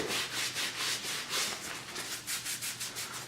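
A heavy-duty cleaning wipe rubbed briskly back and forth over a hairy arm, a close rhythmic swishing scrub repeating roughly every quarter second.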